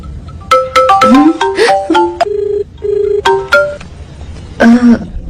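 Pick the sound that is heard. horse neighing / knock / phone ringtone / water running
phone ringtone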